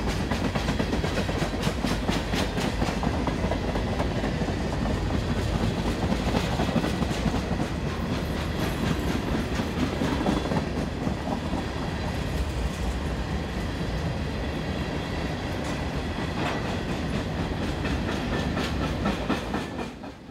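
A long freight train of 90 hopper cars rolls steadily past on a Virginia line, with continuous loud rumbling, rapid wheel clatter over rail joints and a faint hiss throughout, close by and without a break.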